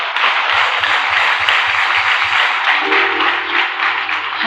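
A congregation at a church gathering claps together, making a dense, steady wash of applause that fills the whole stretch, with faint low thumps underneath.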